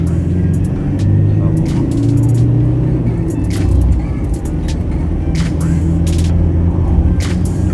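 Remapped Ford Ranger T6 2.2 manual pickup driven slowly in everyday style: a steady, fairly loud low engine and road rumble inside the cab, with someone talking over it.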